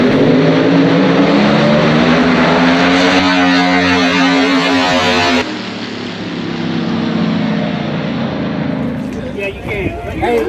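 A 57 Pro Mod drag car launches and roars down the strip, a loud sustained engine blast that drops off partway through and gives way to quieter engine noise, with the crowd audible behind it.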